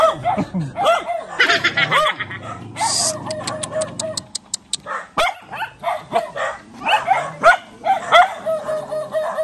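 A dog barks several times, close by, mixed with people talking and chuckling.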